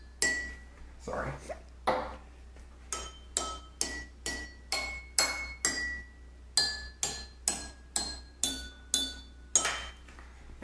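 Drinking glasses tuned to different pitches are struck one after another to play notes, roughly twenty bright ringing strikes in a steady rhythm, close and clear, with a brief pause partway through.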